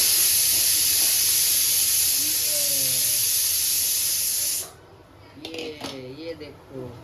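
Hot oil poured into a pan gives a loud, steady, close hiss and sizzle for about five seconds, then cuts off abruptly as a voice starts talking.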